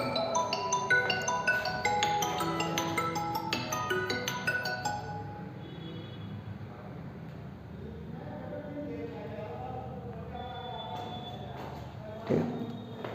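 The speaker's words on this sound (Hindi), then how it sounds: "फोन आ गया" A phone rings with a melodic ringtone of repeated tonal notes that sounds for about five seconds and then stops, followed by quiet shuffling and faint background noise.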